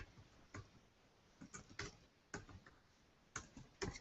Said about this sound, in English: So I'm posting the link now, and I'm typing.